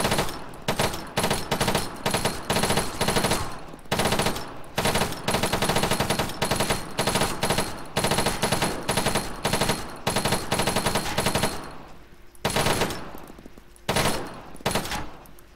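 Automatic rifle in the video game Arma 3 firing steady short bursts from a standing position, sharp rhythmic volleys repeating for about twelve seconds before a few final separate bursts, loud and close with no talking.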